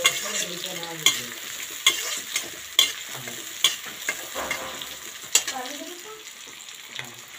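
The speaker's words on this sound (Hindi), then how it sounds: "थोड़ा मिर्ची लाल हो जाने पर तब इसमें 2 प्याज डाल दीजिए। और उसके बाद इसको चला दीजिए।" Onions fry with red chillies in a pan for pasta, a steady close sizzle broken by regular scraping knocks of a spoon stirring roughly once a second.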